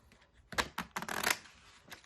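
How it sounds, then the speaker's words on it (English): Playing cards riffle-shuffled together in a quick run of crisp, fluttering bursts, close and fairly quiet, with no talking over them. "And the cards would get completely shuffled together."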